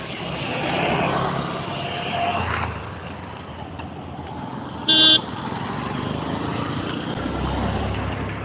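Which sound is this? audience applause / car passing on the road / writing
car passing on the road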